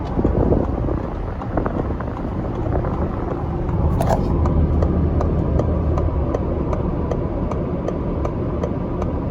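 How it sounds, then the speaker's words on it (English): Turn signal of a Ford Explorer ST clicking steadily inside the cabin, a regular train of faint, evenly spaced ticks over a constant low road and wind rumble. "the turn signal. The blinky light does not match the blinky sound."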